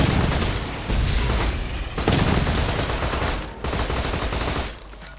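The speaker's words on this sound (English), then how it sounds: "Shotgun there, I think." Loud, dense gunfire from a shotgun and other weapons in the video game Borderlands 2, forming continuous blasting bursts broken by brief drops, with no talk over it.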